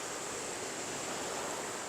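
Sea surf on the Odessa shore at Bolshoy Fontan, a steady, faint, broadband wash of waves with no distinct breaks, heard alone.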